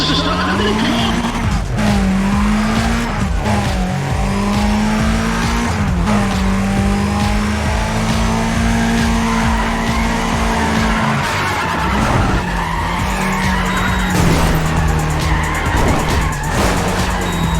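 Race cars in NFS ProStreet launch off the start, with loud, continuous engine drone and sharp tire squeals and skids overlapping for many seconds, close and alone without talk.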